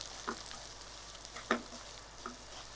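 Cashew nuts frying gently in a pan as semolina is tipped in for fruit kesari, a faint low sizzle with a few soft stirring scrapes and clinks, quiet and close.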